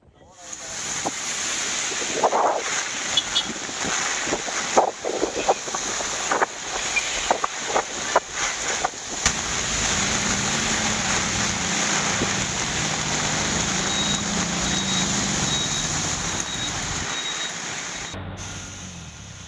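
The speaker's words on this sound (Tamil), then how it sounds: "மாமல்லபுரத்தில் தொடர்ந்து காற்றின் வேகம் அதிகரித்து வரும் நிலையில் கடல் அங்கு கொந்தளிப்புடன் காணப்படுகிறது" Strong wind and rough sea at Mamallapuram during Cyclone Fengal, heard as a loud, steady roar of gusting wind buffeting the microphone over rumbling surf, with sharp crackles early on and the roar continuing throughout.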